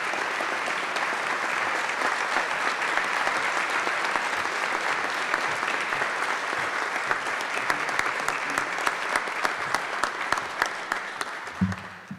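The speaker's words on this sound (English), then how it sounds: "Let's give Madison a round of applause." An audience at an evening honors ceremony gives steady, sustained applause for the non-traditional Student of the Year award winner. The clapping is dense and even, lasting about twelve seconds at moderate distance, with a faint voice near the end.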